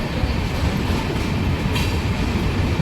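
The Palnadu Express, the 12747 Guntur–Vikarabad train, pulls into Chittela railway station beside the first platform with a loud, steady rumble of rolling wheels and carriages, including faint clickety-clack and a brief high squeal.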